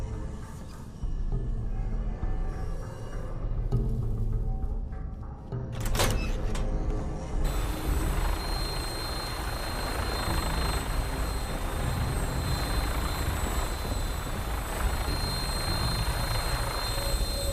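An aircraft flies in Fallout 4 with a steady, rumbling engine drone and rotor-like whir that carries on loudly without letting up, after a brief mechanical clunk near the start.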